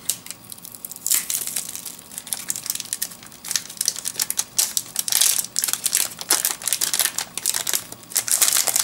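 A Chinese tea portion packet being torn open, with close, continuous crinkling and crackling of packaging and sharp bursts of rustling throughout.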